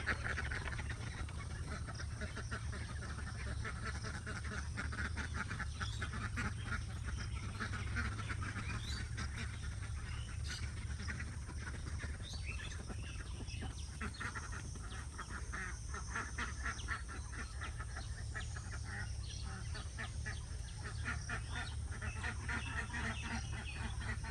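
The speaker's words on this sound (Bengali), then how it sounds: "এদিকে আমি হাঁসগুলোকে ছেড়ে দিলাম" Ducks let out of their pen in a village quack faintly in a continuous, overlapping chatter at a distance, with a low background hum and no speech.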